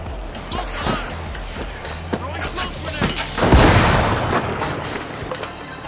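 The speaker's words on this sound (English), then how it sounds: "Two grenades!" Grenade blasts in the video game The Finals, a few thumping booms with a bigger, longer blast midway, layered over constant game gunfire and footsteps, fairly loud in a busy mix.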